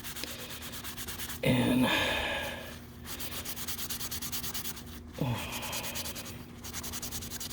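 A cloth soaked in alcohol rubs back and forth along a vintage water-damaged knife blade to lift grime, with rhythmic close scrubbing strokes, a louder stretch early on and another near the end, and a steady hum underneath.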